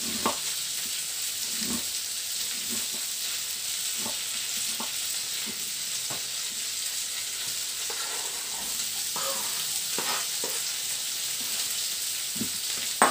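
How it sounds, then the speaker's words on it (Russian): Continuous sizzling of two diced onions frying in a pan, with occasional soft taps and stirring scrapes over the steady crackle. "на другой сковородке нужно обжарить 2 луковички"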